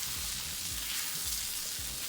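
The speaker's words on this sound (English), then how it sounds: "Allow the garlic to toast up just a bit." Garlic toasts in a pan for a Cajun shrimp and sausage pasta, giving a steady, close hiss of frying with faint low bumps underneath.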